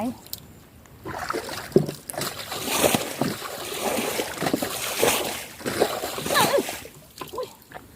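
Water flows and splashes out in uneven bursts and sloshes, fairly close and moderately loud, with someone talking over part of it.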